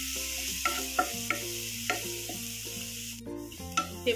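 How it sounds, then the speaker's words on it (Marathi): Green chillies and turmeric masala fry in a pan for methi divse, giving a steady soft sizzle punctuated by several sharp clinks of a spoon stirring against the pan, with background music running throughout. "छान मसाला तर तळून झालेला आहे, फ्राय झालेला आहे।"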